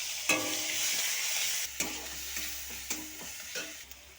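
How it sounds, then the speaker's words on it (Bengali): Onion paste fries with bay leaf and cumin in oil left from frying pointed gourd, giving a steady close sizzle broken by scraping stirs of a spoon in the pan. "এবার সেই পটল ভাজার তেলে আমি মশলাটা কষে নেব তেজপাতা এবং জিরা ফোড়ন দিয়ে দিলাম এবার পেঁয়াজ বাটা দিয়ে দিলাম"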